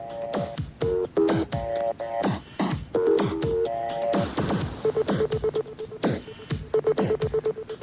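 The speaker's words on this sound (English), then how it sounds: "Everybody's stabbing at the digits on the phone to talk to Tone." Telephone keypad tones from a phone-in to a 1991 radio football talkback show, short bursts of DTMF beeps in quick irregular runs, separated by clicks and handset clatter, loud and close.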